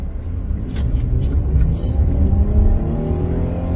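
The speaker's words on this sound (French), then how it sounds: "la sonorité elle est pas mal parce que c'est un moteur atmosphérique" A naturally aspirated Hyundai Genesis car engine idles with a low, steady rumble, rising slightly as it's revved, close by and continuous with no one speaking.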